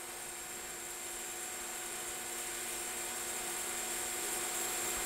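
Hydmech 13 x 18 inch semi-automatic horizontal pivot-style band saw running a cutting cycle, a steady high-pitched machine whine and hum that holds constant throughout.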